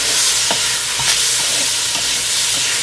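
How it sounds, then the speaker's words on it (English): Minced garlic and onions sizzle steadily in a hot pot for a Jamaican chicken soup, a continuous close frying hiss broken by a few soft stirring scrapes. "I just want our garlic and our onions to cook just a little bit"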